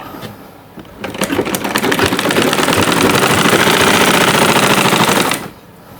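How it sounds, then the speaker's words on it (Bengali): An electric sewing machine stitching salwar pants, a loud, rapid mechanical rattle that starts abruptly, runs steadily for about four seconds and then cuts off, with quiet room tone before and after. "এভাবে পুরোটা সেলাই করে নেব।"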